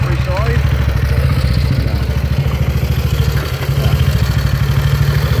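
A 1939 BSA C10 250cc motorcycle engine runs close up with a steady, loud, flat-sounding single-cylinder thump, idling evenly while people talk over it.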